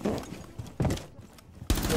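Video game gunfire in chaotic squad play, heard as rapid bursts of shots in three dense clusters with brief gaps between, loud and close, with voices faintly mixed in.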